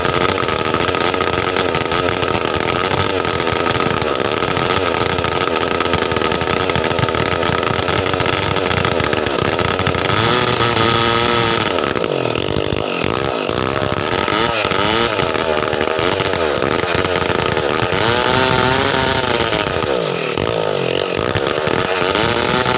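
A Stihl 070 chainsaw with a fault runs loudly and steadily close by, its two-stroke engine buzzing and sputtering unevenly, with rough wavering pitch through the middle and near the end; no voices.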